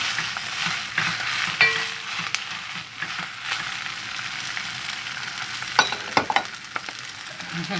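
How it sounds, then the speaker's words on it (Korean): Cut seaweed sizzles and crackles in a hot pot as it is stir-fried for Korean seaweed soup, with occasional scraping and clinks from a utensil. "이렇게 잘라놓은 미역을 이렇게 달달달 볶아요"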